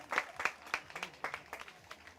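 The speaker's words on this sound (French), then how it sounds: "On peut l'applaudir parce qu'il a quand même fait toute la course en tête." Sparse, faint clapping from a small audience at an athletics middle-distance meeting, greeting a runner who led the whole race; a handful of separate claps in an uneven rhythm, sounding distant.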